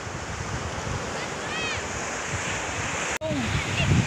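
Rough sea waves surge and wash in a constant roar mixed with wind rumble, close by at a beach in Naic, Cavite, with a brief dropout and some faint background voices.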